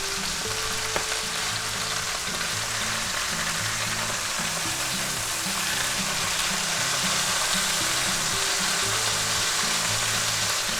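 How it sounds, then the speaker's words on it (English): London broil steak searing in a hot pan, giving a steady, close sizzle and crackle throughout, with no talking. "Let's flip it back over and see if we can get a better sear on this side."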